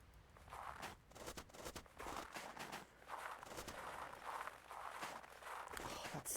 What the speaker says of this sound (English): The sound of footsteps crunching on snow